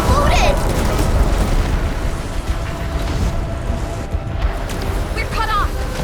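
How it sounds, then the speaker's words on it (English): A loud, rumbling explosion in the sci-fi video game Arknights Endfield bursts at the start and rolls on as a heavy low roar, with a short voiced cry near the end. "It exploded!"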